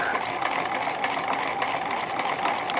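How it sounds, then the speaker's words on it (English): A White Euroflair 8910 sewing machine made by Husqvarna Viking stitches a buttonhole at steady speed, giving a continuous close whirring, rattling mechanical drone with rapid needle ticks throughout and no speech. "sew at the same speed you plan to do all your buttonholes"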